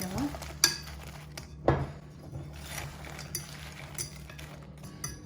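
Potatoes being stirred and mixed in a dish, with soft scraping and a few clinks of a utensil against the dish over a steady low hum.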